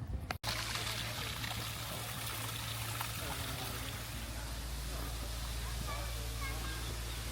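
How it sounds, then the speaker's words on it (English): Gentle trickling water from a rocky water feature in Portugal, a steady soft splashing and babbling close by, with a brief knock near the start and a low constant hum underneath. "Nice water feature here."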